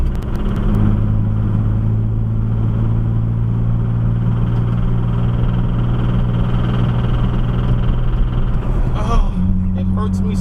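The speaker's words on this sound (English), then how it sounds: "It hurts me so much to listen to this car like this." A race car with a broken transmission runs close and loud in a steady, droning engine note that holds level for about nine seconds, then shifts pitch near the end.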